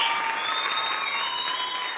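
Sustained dense applause from a family in a children's TV game show studio, steady and fairly loud throughout with no talking.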